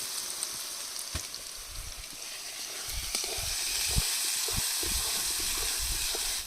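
Spice paste for doi katla frying in oil in a pan, a steady close hissing sizzle broken by soft spatters and light scraping taps.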